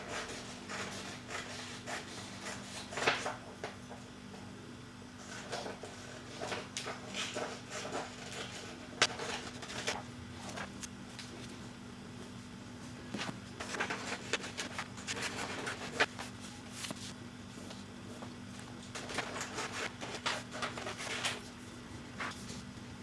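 Children snip paper strips with scissors along drawn lines, a quiet run of irregular cutting, rustling and handling noises close by, with a low steady hum underneath.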